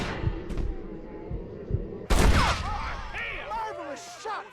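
Gunfire in Red Dead Redemption, a few muffled thumping shots followed by a loud, sudden blast with ringing echoes and a ricochet-like whine, as game voices speak over it.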